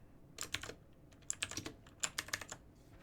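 Bursts of quick clicky keystrokes on a budget computer keyboard with RGB LEDs and switchable keys, typed in short rhythmic clusters with brief pauses, close and clear in a quiet room.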